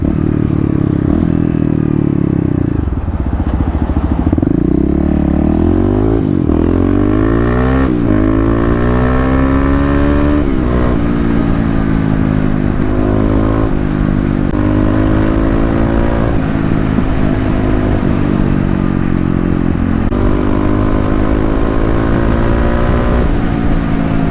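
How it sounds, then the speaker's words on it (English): A Kawasaki KLX351 dual-sport motorcycle accelerates onto a highway. The engine revs rise repeatedly through several gear shifts, loud and close, then settle into a steady high drone with wind noise. "we're gonna get a little bit of an acceleration onto the highway here"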